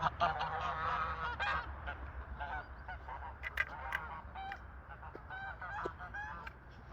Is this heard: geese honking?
yes